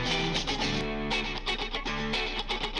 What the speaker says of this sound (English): You can hear that reverb on the right side a little bit louder.